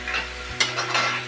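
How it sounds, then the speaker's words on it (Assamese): Mutton being stirred as it fries in a pan over a medium gas flame, with steady sizzling broken by brief scraping strokes and a sharper clink near the middle. The sound is close and continuous, with no talking. "পাঁচ মিনিটৰ পিছত মই মাংসখিনি লৰাইছোঁ"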